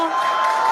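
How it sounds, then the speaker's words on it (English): A large crowd at a SpaceX Starship launch cheers in a loud, continuous, distant roar of massed voices with no breaks. "you can hear the crowd is very excited about it"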